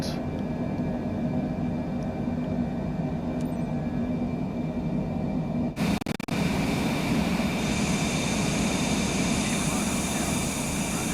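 A Cessna Citation Longitude business jet climbs after takeoff in Microsoft Flight Simulator 2024, its engines a steady cabin drone that shifts abruptly midway, with no speech.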